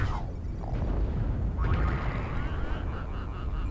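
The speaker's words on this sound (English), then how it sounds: "He walked right into an explosion." Explosions go off in a mech combat video game, heavy booming bursts over constant low rumble, with a second blast rolling out and decaying into noise.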